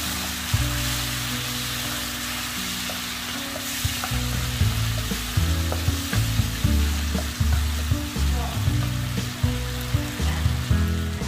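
Chili sauce sizzling and frying in a hot pan after tamarind water is added, with steady bubbling and intermittent scraping stirs from about four seconds onward, close and fairly loud.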